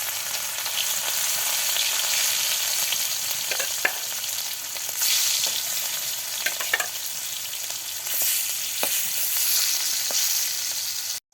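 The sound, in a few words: spiced fish frying in hot oil in a wok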